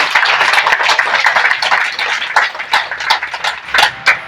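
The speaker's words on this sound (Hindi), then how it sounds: "इसलिए इनको हम जोरदार ताली से स्वागत करेंगे।" An audience claps loudly and continuously for a few seconds to welcome yoga teachers at a yoga class birthday celebration.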